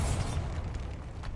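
A Bombarda spell explosion in Hogwarts Legacy: a sustained, loud, rumbling blast with a heavy low boom that holds steady and fills the whole short moment, with no voices over it.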